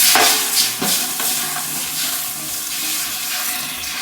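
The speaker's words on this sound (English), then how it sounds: "we are about to start pouring in chicken broth" Chicken broth from bottles pours into a huge soup pot on the stove, a steady splashing, gurgling liquid stream that runs continuously and loudly throughout, with no talking.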